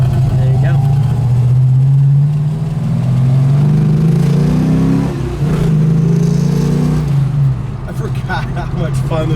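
A 1972 Plymouth Cuda with a six-pack carburetor setup runs loud and close, its deep engine note swelling through a couple of revs before settling back toward idle.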